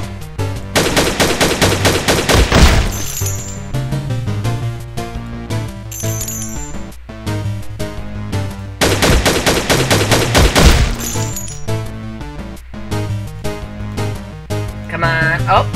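Rapid automatic gunfire from the zombie game Infectonator Survivors, loud and dense bursts of shots with metallic clinks, repeating in long strings with brief gaps, sitting over game music.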